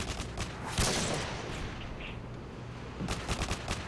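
Gunfire rattles in a Modern Warfare 2 Search and Destroy match: a burst at the start, a heavier blast about a second in, then a quieter stretch before rapid shots resume at the end.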